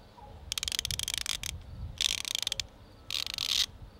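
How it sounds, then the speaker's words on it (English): A Tekton 72-tooth ratchet clicking close up in three bursts of fine, rapid ticking, each lasting about a second, with quiet pauses between them. "Tekton advertises these ratchets as having a 72-tooth gear mechanism, and I will confirm that they are quite smooth."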